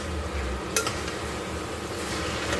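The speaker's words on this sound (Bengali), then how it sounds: "একটু চিকেনটা কষিয়ে নিই।" Chicken and parboiled potatoes sauté in a pan with a quiet, even sizzle, broken by a brief utensil clink and a stirring scrape.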